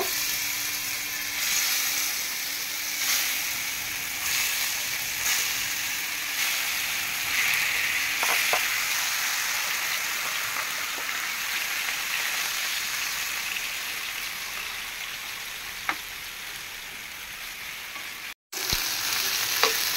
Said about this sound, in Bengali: মাংসটা রান্না করার আগে আমি একটু কড়া করে ভেজে নিলাম।